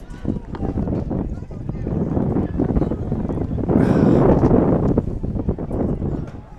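Wind gusting across a high school football field during a windy game, a steady blustery rumble buffeting the microphone that swells into a stronger gust midway, with faint voices underneath.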